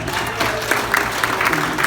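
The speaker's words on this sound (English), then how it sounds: "So I'd like to give that a round of applause." Wedding guests applaud together in a steady, dense wash of clapping that runs throughout, with a faint murmur of the crowd underneath.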